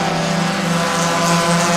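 Race cars at Sebring, a loud continuous engine roar with steady droning pitch, as if a pack passes close by.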